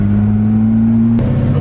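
Porsche GT3 fitted with a GMG exhaust, a loud steady droning engine tone held close by, then shifting abruptly to a lower, choppier pitch near the end.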